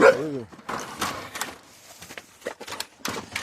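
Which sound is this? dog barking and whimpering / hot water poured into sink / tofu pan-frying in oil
dog barking and whimpering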